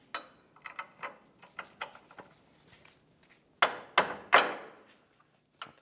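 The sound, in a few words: tapping a bolt in with a hammer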